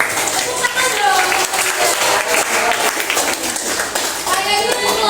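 Classroom applause for a presenting student group, lively clapping from children mixed with chatter and excited voices, continuous and fairly loud throughout.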